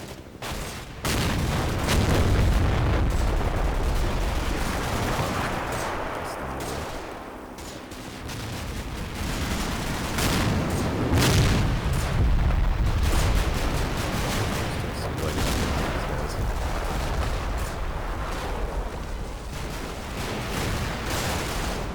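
Loud, continuous machine gun fire from Combat Mission: Black Sea, rapid bursts layered with heavier booms and artillery-like thuds, rising and easing slightly but never stopping across the whole stretch.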